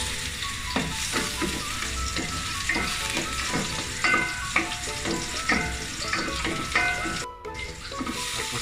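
Garlic sizzles in hot oil in a cooking pot for chicken tinola, a continuous crackling fry with repeated scraping stirs and clinks throughout.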